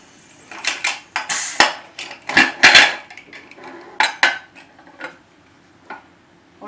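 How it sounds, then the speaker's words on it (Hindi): Metal clanks and scrapes in a kitchen, a series of sharp bangs and rattles as a pressure cooker lid is handled and opened after the steam has escaped, with quiet pauses between. "अब कुकर में से भाप निकल गया है और मैं ढक्कन खोल दे रही हूँ।"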